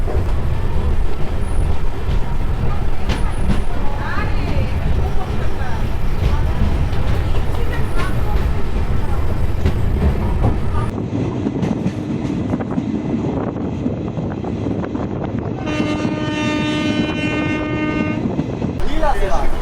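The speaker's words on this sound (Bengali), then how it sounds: "সাতটা বেজে পঞ্চান্ন মিনিট আমাদের ট্রেন চললো বুনিয়াদপুর থেকে" Balurghat–Sealdah Express passenger train running after leaving Buniadpur, a steady loud rumble of wheels and carriages throughout, with a brief horn-like tone near the end.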